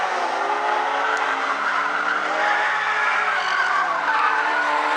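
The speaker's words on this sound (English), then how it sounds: "Now Dalrymple goes around" A Stinger 8 race car spinning out at a speedway, tires skidding in a steady, loud smear of screeching rubber and engine roar that runs unbroken for about five seconds.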